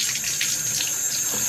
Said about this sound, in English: gently kind of run these under the water while I wring them out